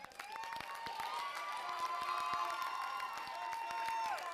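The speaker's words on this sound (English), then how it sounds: "Applause is appropriate." An audience at a spring concert applauds and cheers, a steady sustained mass of clapping with whoops and shouts on top, heard from within the crowd.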